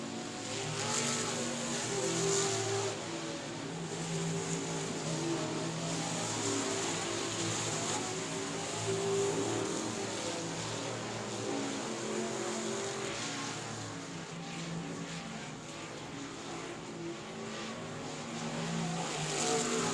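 Race cars at South Texas Speedway roar continuously around the track, a loud, dense engine drone that swells and fades slightly as the pack passes.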